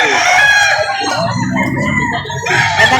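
A rooster crows loudly and close at a livestock auction market in Padre Garcia, one long drawn-out call with a clucking fowl alongside and a busy market murmur underneath.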